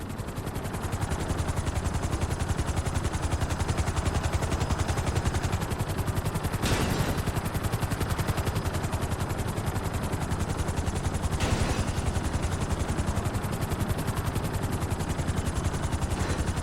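A video-game helicopter's rotor chops in a fast, steady rhythm while landing on a helipad, loud and continuous, with a couple of brief sharper bursts partway through.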